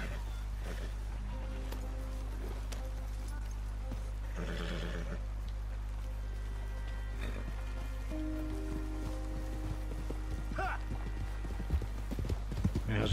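Horse hooves clip-clop at a steady walking pace in Red Dead Redemption 2, quiet and even over a low hum, with a whinny midway and scattered voices in the background.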